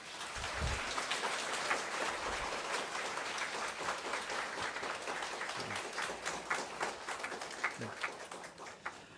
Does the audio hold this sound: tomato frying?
no